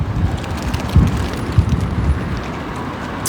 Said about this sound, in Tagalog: Mahangin na nga.